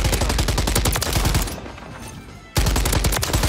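Taq Eradicator shotgun fire in Modern Warfare 3, loud rapid repeated blasts in a steady stream. A short lull sits in the middle before the firing resumes just as hard.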